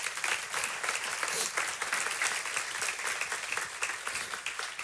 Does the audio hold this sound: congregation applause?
yes